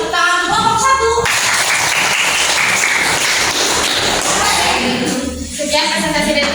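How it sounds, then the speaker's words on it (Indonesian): Clapping from a small group at an Indonesian teachers' coaching presentation, scattered hand claps close by that swell then thin out, with voices talking briefly at the start and end. "Tepuk tangan untuk kelompok 1."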